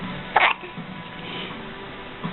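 A single sharp hiccup pops out loud and close, brief and abrupt, against a quiet room background.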